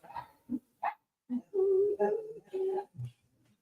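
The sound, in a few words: dog barking and whimpering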